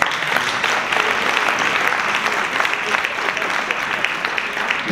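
An audience at a political convention in Aubervilliers applauds, with dense, loud, sustained clapping throughout and a faint voice underneath.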